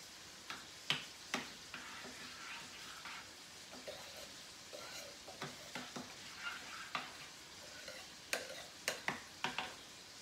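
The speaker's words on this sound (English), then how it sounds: "I'm gonna go ahead and stir my dry ingredients in right away too" A spoon scrapes and taps against a pot as dry ingredients are stirred into tomato paste. The clicks are irregular and fairly faint, sounding at intervals across a quiet background.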